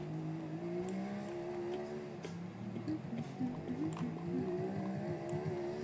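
Car in the Roblox video game pulling away, a steady engine drone with rising harmonic tones, continuous and fairly loud with no talk over it.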